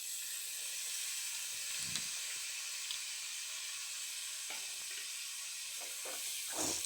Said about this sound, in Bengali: লঙ্কাটা লাল করে ভাজা হয়ে গেলে ওতে পেঁয়াজগুলি দিয়ে দেবো।